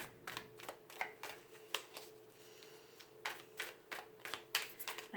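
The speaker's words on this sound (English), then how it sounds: "we're just going to shuffle to see if there's any other messages this deck wants to" A tarot deck being shuffled by hand, with a series of crisp riffling card bursts in an irregular rhythm. It is close and fairly quiet, with short pauses between the bursts and no voices.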